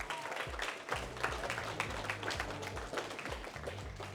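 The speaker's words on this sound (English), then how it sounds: "Please give him a round of applause." Crowd applauding a graduate at a brotherhood graduation ceremony in Baltimore, dense continuous clapping from many hands at a steady level, with faint voices underneath.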